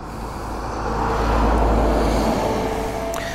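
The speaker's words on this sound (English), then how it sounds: "Let's wait for the truck." A truck drives past on a road beside a parked motorcycle, its deep engine rumble swelling loudly as it nears and then easing off, with no talk.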